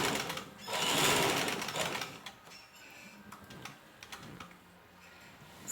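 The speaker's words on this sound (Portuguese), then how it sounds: "Eu tô aqui na minha máquina assim, gira antiga. E eu vou passar um pesponto aqui de 3 centímetros." An old swing-arm sewing machine sews a 3 cm topstitch on a placemat, a rapid mechanical chatter that swells loud at first, then settles into a steadier, lighter run with ticking clicks.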